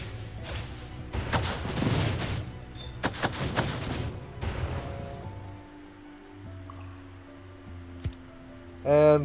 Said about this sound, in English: More gunshot.